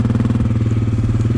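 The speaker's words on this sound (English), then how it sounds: "keep the engine at the lowest RPM possible, not letting that tire spin" Dirt bike engine held at very low RPM while climbing a steep hill with clutch control, a steady loud near thumping idle-like drone with a regular rapid pulse and no speech.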